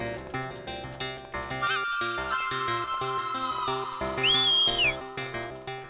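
A man on a street whistles at a garland seller, two short whistles, the second a longer rising-and-falling note. Both ring out over busy background music.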